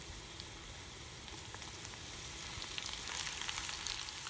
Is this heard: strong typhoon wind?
no